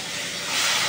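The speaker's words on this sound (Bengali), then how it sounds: "এখানে মাছ ভাজা হচ্ছে, কিছু মাছ ভাজা আছে, কিছু মাছ ভাজা হচ্ছে।" Fish frying in hot oil hisses in a steady, dense sizzle that swells slightly louder toward the end, close and without talk.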